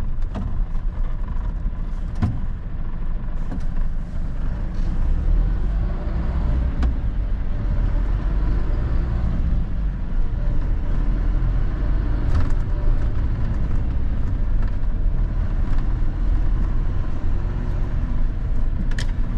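A car drives through a cramped city centre, its steady low engine and road rumble continuous and close, with occasional faint knocks and passing traffic noise.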